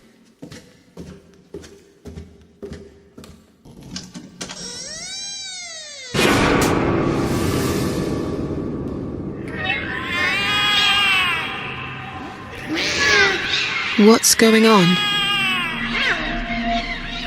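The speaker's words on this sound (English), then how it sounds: "The cats are alarming." Cats meow and yowl in The Cat Lady video game, with drawn-out rising and falling caterwauls that grow loud and overlapping after a series of soft taps, and a voice speaks briefly near the start.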